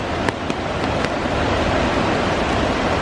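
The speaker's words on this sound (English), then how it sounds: "Wow, look at the raging water." Raging runoff water pours down off a mountain, a steady loud rushing wash with a few faint knocks, no voices.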